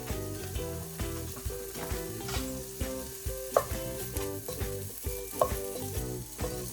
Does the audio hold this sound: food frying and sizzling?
yes